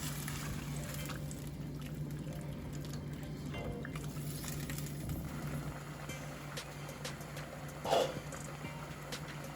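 A steady bubbling patter of coconut milk boiling in a pot for seasoned rice, continuous throughout with a low hum underneath and a brief louder splash near the end.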